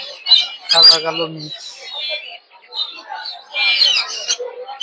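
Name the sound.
birds at a bird market, Java sparrows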